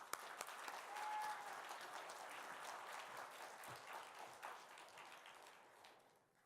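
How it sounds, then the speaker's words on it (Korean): Church audience applauding to welcome a missionary on the final evening of a revival service, steady dense clapping from a large crowd that swells early, holds, then tapers off near the end. "우리 선교사님 나오실 때 마지막이니까 더 큰 박수로 맞이해 주시기 바랍니다"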